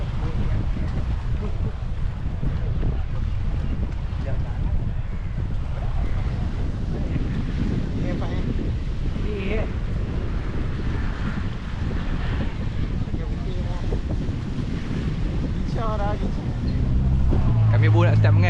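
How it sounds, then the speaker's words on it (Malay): Strong wind buffets the microphone at a seaside fishing spot in Penang, with dense low rumble and surf-like wash throughout, constant and loud, with a brief voice near the end. "Dan angin pun sangat kuat lah ni."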